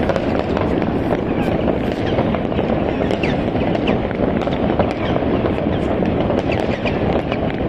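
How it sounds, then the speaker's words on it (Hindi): New Year firecrackers burst all around at midnight, a dense, steady crackle of many overlapping explosions near and far with no pause throughout. "देखो क्या जबरदस्त पटाखे छोड़े जा रहे हर जगह"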